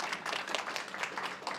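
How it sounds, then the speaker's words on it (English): A conference audience applauds presenters at an undergraduate research event, a dense, even patter of many hands clapping, heard fairly faint and distant, without speech. "please give our presenters a round of applause"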